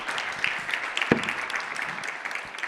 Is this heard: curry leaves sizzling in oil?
no